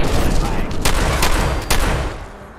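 Gunfire in Fallout 4's Nuka World: several loud, close, sharp shots in quick succession over a few seconds, then fading slightly.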